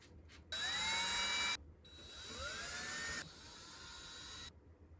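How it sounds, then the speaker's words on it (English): A small electric drill whirs in two or three bursts drilling pickguard screw holes in a Telecaster, its pitch rising as it spins up, fairly quiet and close with no talking. "we're going to drill the holes for the pickguard to situate that"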